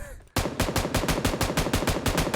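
After a brief quiet moment, a sudden burst of rapid automatic gunfire rings out in a battle royale shooter game. The shots are loud and steady, with evenly spaced reports, and no one talks.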